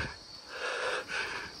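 Heavy, rasping breaths from a hiker climbing uphill through fog, close and loud, rising and falling in two long wheezy pulls.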